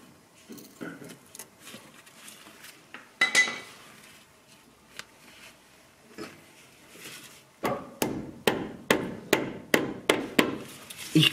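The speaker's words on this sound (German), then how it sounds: "Ich klopfe das ein bisschen klein hier, damit bei Kurvenfahrt die Manschette da nicht die Kante berührt." A small axle boot clamp on a Skoda Superb is hammered flat during a CV boot replacement: scattered metallic taps at first, then a steady run of sharp, evenly spaced hammer blows close up, with no talking.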